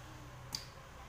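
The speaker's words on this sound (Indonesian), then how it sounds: "Klik sampai bunyi ceklik" A motorcycle throttle position sensor connector snaps into place while the fuel-injection ECU is being reset, giving one short, faint click midway through an otherwise quiet stretch.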